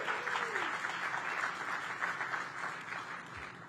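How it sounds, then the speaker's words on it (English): A crowd at a community groundbreaking event in Congress Heights claps in sustained, fairly distant applause that tapers off slightly toward the end. "Give her a round of applause"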